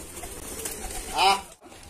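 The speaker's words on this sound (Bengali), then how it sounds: "এখানে সব রকমের কবুতর আছে" Giribaz pigeons at a pigeon farm give a brief, soft cooing call that swells near the end of a short stretch of low background ambience.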